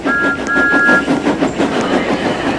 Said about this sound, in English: Thomas was shunting some coaches for Afton's passenger train.